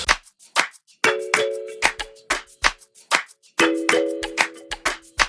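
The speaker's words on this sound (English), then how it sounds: "Then the snare on the rim shot" Snare rim shot in an afrobeat beat, sharp clicky hits repeating in a syncopated groove, layered over a shaker pattern and short tonal stabs, clear and close.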